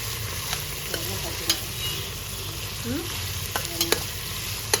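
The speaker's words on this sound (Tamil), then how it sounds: "வதக்குமா போட்டுட்டு இப்படி வதக்கிக்கோங்க கைஸ் நல்லா." Slit green chillies sautéing in oil in a pan for chicken biryani, a steady close sizzle with scraping stirs and a few sharp utensil clicks.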